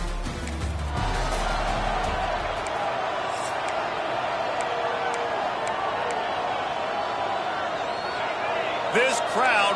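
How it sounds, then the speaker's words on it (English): A packed stadium crowd at a college football game roars loudly and continuously as the visiting team takes the field, a dense wall of cheering with scattered shouts and a commentator speaking over it. "This crowd bringing an ear-splitting welcome to their visitors"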